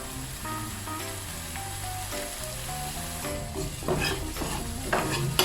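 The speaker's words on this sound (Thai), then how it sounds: "ผัดให้พริกแกงหอม เดี๋ยวแดงผัดต่ออีกนิดหนึ่งนะคะ" Green curry paste being stir-fried in a pan for Thai green curry, with a busy scraping stir and sizzle, a louder clatter near the end, and some background tones.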